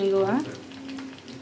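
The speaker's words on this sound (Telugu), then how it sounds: "తాలింపు అయితే వేసిపోయింది ఫ్రెండ్స్" Tempering for chukkakura (sorrel leaf) dal sizzles in hot oil. A short voice opens, then a soft, steady crackling frying hiss continues close by.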